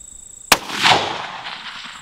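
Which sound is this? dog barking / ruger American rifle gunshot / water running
ruger American rifle gunshot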